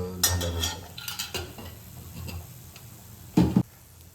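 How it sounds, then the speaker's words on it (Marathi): Coconut and coriander seeds are dry-roasted in a pan, stirred with close, clattering spoon scrapes and taps, ending in one louder scrape near the end. "हे खोबरं आणि धने चांगले भाजून झाल्यानंतर"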